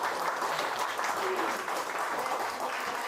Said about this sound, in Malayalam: ഒരു ബിഗ് ക്ലാപ്പ്